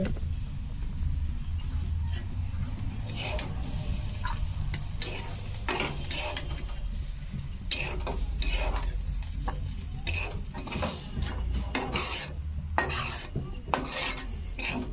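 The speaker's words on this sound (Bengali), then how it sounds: "আর কুঁদলি আলু ভাজছি তোমরা তো দেখেই বুঝতে পেরে গেছো" Ivy gourd and potatoes frying in a pan, producing a constant low sizzle broken by repeated scraping and stirring strokes with a metal spatula, close and busy, with no voices.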